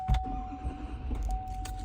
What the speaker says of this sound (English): Starts up right away. Super reliable Duramax diesel.